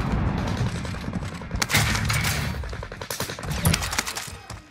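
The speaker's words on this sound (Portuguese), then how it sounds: "Granada lançada!" A grenade blast and heavy gunfire in Call of Duty: Modern Warfare, with loud, dense bursts of automatic fire and booming thuds running throughout, peaking around a couple of sharp explosions.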